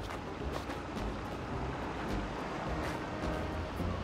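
In the Rubber Bandits game, a boat drifts on water amid a constant rushing wash of waves and wind, steady and moderately loud with faint swells, with no voices.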